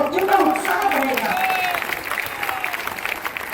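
An audience at a public rally applauds, with a burst of clapping and crowd noise that fades gradually while a voice speaks over it.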